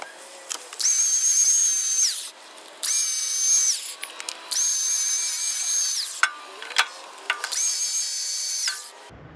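Power grinder taking paint off the steel shaft of a WoodMizer LX250 sawmill, heard as four long, loud, high-pitched whining bursts separated by short pauses, close up and without talk.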